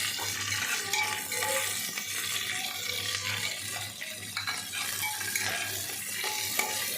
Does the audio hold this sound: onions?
yes